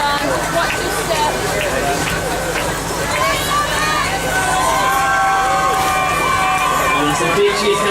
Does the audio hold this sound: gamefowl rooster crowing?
no